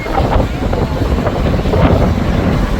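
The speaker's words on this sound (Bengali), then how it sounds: "নদীতে তীব্র বাতাস এবং ঢেউ থাকায় জাহাজগুলো মাঝ নদীতে নোঙর করে রাখছে" Strong wind buffets the microphone over the Meghna river during a storm near Bhola, a loud, rough, continuous rumble with gusty surges throughout.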